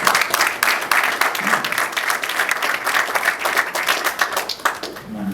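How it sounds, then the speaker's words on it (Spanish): Audience applause at a business talk, brisk and fairly loud with distinct claps in a quick irregular rhythm, tapering off at the end as a voice begins to speak. "Venga, un aplauso."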